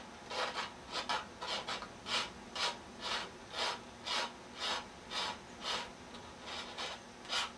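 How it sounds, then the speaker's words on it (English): Sandpaper rubbed back and forth over a freshly cut edge, about fifteen steady rasping strokes in an even rhythm, close and fairly quiet with no talking. "I'm just going to actually round off where the cut is with a piece of sandpaper"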